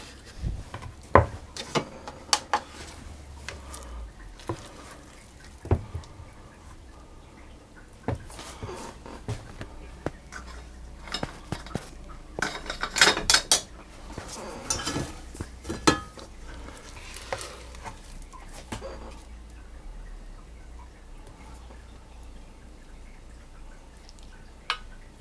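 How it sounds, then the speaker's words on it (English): Cake batter being spooned and scraped into a 1 pound loaf tin, with irregular soft clinks, taps and wet dollops scattered over a long stretch, a cluster of busier scraping near the middle, close and fairly quiet. "I'm going to take half of the mixture and put it into this 1 pound loaf tin"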